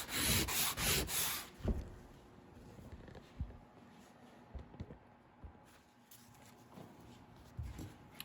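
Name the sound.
sanding aluminum boat with 50 grit emery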